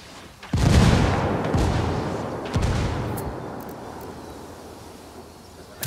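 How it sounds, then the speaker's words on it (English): Heavy artillery strike in the Ghost Recon Wildlands video game: a loud booming blast followed by a long rumbling roll, then a second impact about two seconds later that fades into low reverberation. "Calling for indirect fire."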